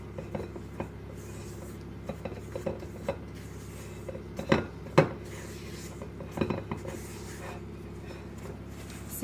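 A thin, bendy spoon stirs cookie dough by hand in a bowl, giving quiet scattered scrapes and a few sharper clinks against the bowl at an irregular pace, with no one speaking.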